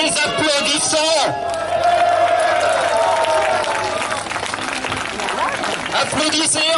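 Crowd at a street demonstration breaking into sustained applause and cheering, a dense wash of clapping with voices mixed in, loud and close throughout.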